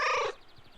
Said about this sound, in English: Affirmative meow